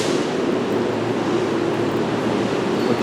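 A train at a station rumbles steadily and loudly, producing a continuous broad roar with no clear breaks.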